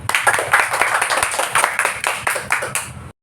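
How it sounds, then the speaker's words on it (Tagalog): Schoolchildren in a Filipino-language classroom clap for themselves, a lively burst of many small hands with distinct, quick claps that stops abruptly at the end. "Bigyan natin ng masigabong palakpak ang ating mga sarili."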